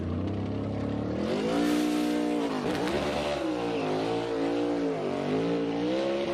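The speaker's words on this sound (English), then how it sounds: "A lot of wheel spin." NASCAR race car spinning its wheels as it leaves a pit stop at the Pit Crew Challenge, a loud continuous engine roar rising and falling in pitch with tire noise, close and dominant throughout.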